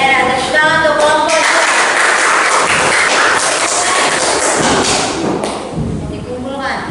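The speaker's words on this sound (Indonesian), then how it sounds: "Tepuk tangan untuk kelompok" A classroom of students claps for a student group after its presentation, a dense spread of claps filling the room with voices audible around it.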